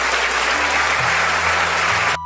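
An audience claps steadily at a Marathi stage performance, a dense, loud burst of applause that holds evenly for about two seconds and then cuts off abruptly.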